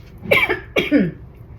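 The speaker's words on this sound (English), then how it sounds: "like I'm gonna start coughing really strongly" Two close, harsh coughs in quick succession, each a raspy burst, then quiet.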